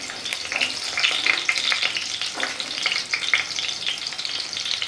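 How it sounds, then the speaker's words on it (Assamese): Potatoes fry in hot oil in a wok, giving a steady, close sizzle with bubbling crackle throughout and no talking. "তেল দিলোঁ, তেলখিনি গৰম হৈছে। এতিয়া আলুখিনি দিছোঁ প্ৰথমতে। আলুখিনি ৰঙচুৱা হ'লেকৈ মই ভাজি ল'ম।"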